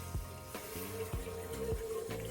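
Water is poured into a pot of roux for Maryland-style cream of crab soup, a steady close splashing stream with faint rhythmic knocks underneath, continuous and even throughout.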